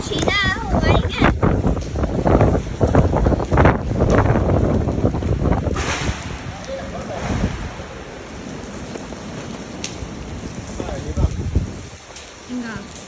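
Strong Typhoon Saola winds roar and buffet the microphone in Hong Kong under a No. 9 gale signal, loud and gusting throughout, with a person talking excitedly over the blasts.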